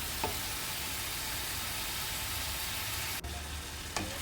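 Snake gourd fries with tomato in a pan, a quiet, constant sizzle that runs throughout, broken by a couple of brief scraping stirs near the end.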